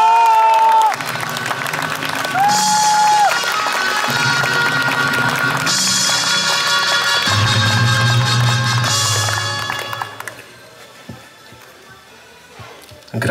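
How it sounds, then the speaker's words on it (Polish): Crowd applause and cheering at a road race medal ceremony at the World University Cycling Championship in Jelenia Góra, Poland: sustained crowd noise mixed with ceremony music and a tonal announcement sound, fading out after about ten seconds. "Wielkie, wielkie brawa!"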